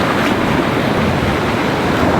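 Ocean waves wash steadily over a shore in a loud, continuous roar with wind noise on the microphone.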